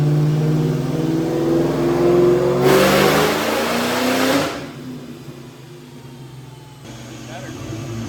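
A worn KB Cobra 2.2 engine revs hard, rising in pitch to a loud, rasping peak, then drops back to a rough idle before picking up again, heard up close.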